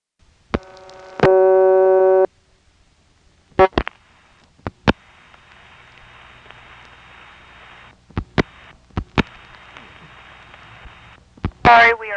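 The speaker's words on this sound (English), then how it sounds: "that does have a little dial tone on it." A 1976 XY step-by-step telephone exchange gives a buzzy tone lasting about a second, then a series of sharp relay clicks, then a fainter, longer steady tone broken by more clicks and a short burst at the end.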